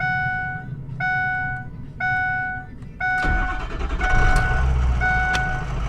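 Cold start of a 6.0 Powerstroke diesel pickup: four short electronic chimes sound at even one-second intervals, then the engine cranks and catches into a loud, rough idle with a few sharp knocks, close by.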